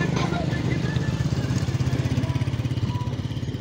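A motorcycle engine drones steadily and loudly on a road beside a construction section between Jhelum and Lilla, a continuous pulsing engine tone that fills the whole stretch without a clear rise or fall.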